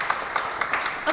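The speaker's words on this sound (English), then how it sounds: "Applause in council chambers as the Providence City Council decides not to vote on a new deal for ProvPort" A brief burst of steady clapping from a group fills the Providence City Council chambers after the council tables a vote, even and moderately loud without voices over it.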